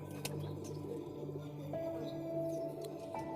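Soft cooing of migratory pigeons rises and falls in low, throaty phrases, fairly close, with faint chirps and a quiet background hum.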